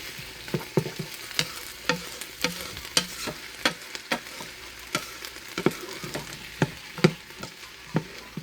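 Garlic and onions sauté in an Instant Pot for Mississippi pot roast, a soft continuous sizzle punctuated by regular sharp spoon scrapes and taps against the inner pot.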